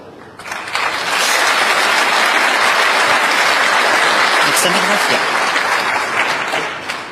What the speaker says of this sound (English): The applause you heard